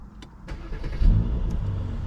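A Mercedes-AMG C43 engine cranks with a few sharp clicks, then catches and settles into a steady, deep idle rumble.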